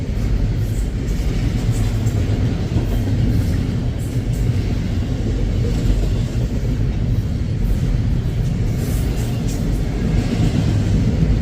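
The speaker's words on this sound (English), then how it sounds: "That was a 2-engine train" A CSX freight train with two engines rolls past hauling containers near Resaca, Georgia, a loud continuous low rumble and steady rolling roar throughout, with no talking.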